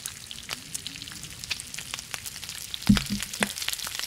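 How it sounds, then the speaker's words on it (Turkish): Raw meat sizzles and fries over a fire in the survival video game The Long Dark, a steady crackling hiss with light popping and one louder thump near the end. "Hemen şu çiğ etleri pişirelim."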